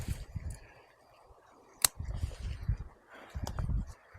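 Two sharp, isolated snips ring out as pepper plant stems are cut at the node during fall garden cleanup, surrounded by close rustling and handling of foliage.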